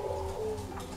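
A Bangkok zebra dove (perkutut) coos in a low, mellow, rounded tone. The call is close and steady, heard alone without talk for about a second.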